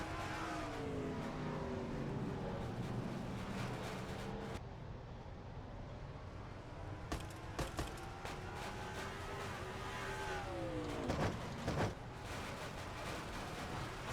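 Stock race cars roar off at the green flag of a 500-lap oval race, a dense wall of engines revving and shifting close by, pitch rising and falling continuously with a brief drop and a couple of louder surges.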